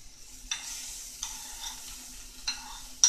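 Pancakes cooking on a griddle, a soft sizzle broken by several scraping strokes of a spatula, close by and fairly quiet.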